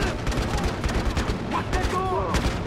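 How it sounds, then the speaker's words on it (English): An enemy light machine gun in the Battlefield: Hardline video game fires as a dense, continuous loud rattle, with scattered impacts and a brief voice over it. "Oh my god, they have a fucking an LMG."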